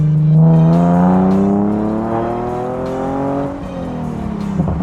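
A tuned Nissan 370Z Nismo accelerating hard at full throttle, heard from inside the cabin: a loud, steady engine note climbs in pitch through the revs, then drops briefly before rising again.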